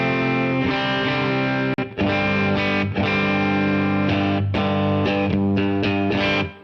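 Electric guitar played through an HX Stomp on a Dual Cali preset, with a thick, driven, distorted tone and sustained chords ringing loudly with few breaks, played alone with no talking.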